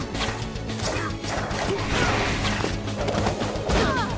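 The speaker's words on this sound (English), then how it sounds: "God damn those fucking gunshots!" Gunfire in the action game Bloodrayne Betrayal, a dense burst of sharp shots and crashing impacts repeating rapidly and loudly throughout, with metallic thuds mixed in and no voices.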